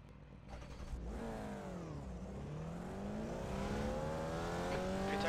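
A Formula Vee race car engine in the iRacing sim at Virginia International Raceway, revving up steadily through a sweeping pitch rise and dip and then climbing again, a continuous close whine with no talk.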